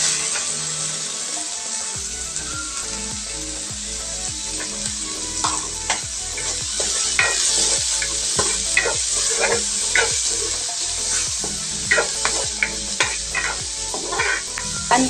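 Onion, ginger and tomato sautéing in a hot pan, with a steady sizzle and frequent stirring scrapes and clinks of a utensil against the pan, close and continuous.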